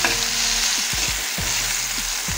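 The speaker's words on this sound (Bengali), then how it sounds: "চিংড়ি মাছগুলো হালকা ভেজে নিয়েছি," Prawns frying lightly in a pan, a loud, steady sizzle with soft stirring scrapes close by, continuous throughout without any speech.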